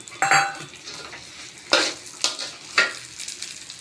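Dal and Gobindobhog rice are stirred in a hot brass kadai, with about four distinct scraping strokes over a soft sizzle, close and loud, with no voices.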